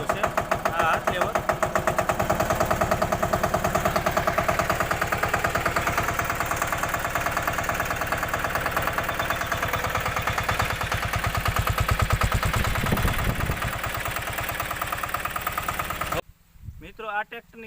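A Massey Ferguson 5118 tractor engine idles close by with a steady, rapid diesel knock and clatter that runs continuously before cutting out near the end, while someone talks over it.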